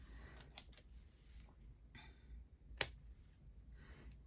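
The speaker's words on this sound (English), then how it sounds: "Now, I want to snip my corners." Scissors snip the corners of paper envelopes for a handmade journal, a few faint, crisp cuts with quiet rustling between them.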